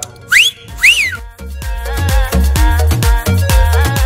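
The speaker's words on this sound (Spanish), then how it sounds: "no es un talento secreto que se silbar de pa' adentro" A person whistles while breathing inward, producing two short upward-swooping chirps, followed by a steady thumping beat with faint tonal pulses.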